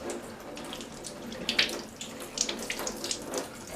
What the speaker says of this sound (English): So let me just give my hands a quick wash.